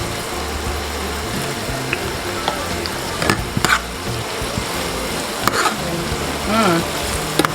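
Fish fillet with seasoning sautéing in a pan, giving a continuous close sizzle broken by occasional stirring clatters and knocks.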